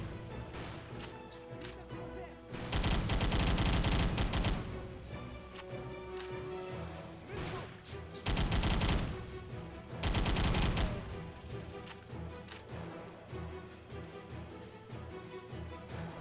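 Gunfire in the Xbox 360 video game Battle for the Pacific, fought on Leyte Island: a busy stretch of mixed shots with several loud sustained bursts of automatic fire and scattered single reports underneath.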